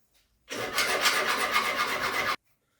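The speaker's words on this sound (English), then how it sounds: "Now more filing." A hand file rasps steadily across metal clamp parts for about two seconds, close and loud with a rough, even scraping texture, then stops abruptly into silence.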